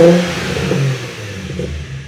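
A Nissan 350Z fitted with a Z1 touring exhaust, warming up after a cold start, gives a loud, close, steady low engine drone with slight wavering in pitch and no talk.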